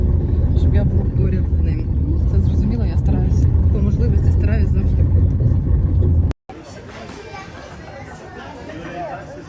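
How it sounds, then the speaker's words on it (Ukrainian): Inside a moving taxi, a low engine and road rumble runs under continuous talk from several people, then drops after a sudden break to quieter road noise. "Я зараз на таксі їду до них"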